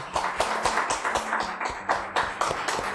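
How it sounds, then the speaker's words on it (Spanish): A man clapping for himself in a room, a series of sharp, evenly spaced claps repeating about every quarter second over low background sound, with no talk. "Yo me aplaudo de mí mismo porque yo la hice."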